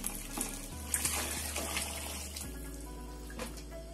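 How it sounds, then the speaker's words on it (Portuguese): Hot water pours into a pot of rice, a soft steady splashing stream that runs close and quiet for a few seconds. "E vou estar colocando água quente."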